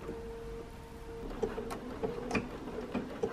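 Sewing machine blanket-stitching a fabric applique, quiet rhythmic needle thumps and ticking after a brief hum, close and soft with no talk.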